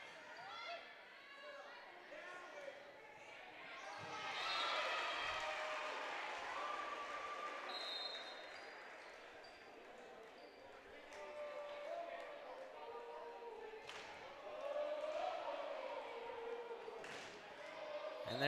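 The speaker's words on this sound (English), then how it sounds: "And there's that home crowd getting into it." A home crowd and student section at a high school volleyball game between Bennington and Waverly swell into cheering twice, with chatter and court thuds around them and a voice talking throughout.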